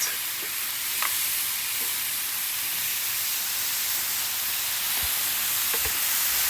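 Garlic frying in a little oil on a griddle gives a steady, close hiss of sizzling with faint occasional pops and clicks over the constant crackle. No one speaks.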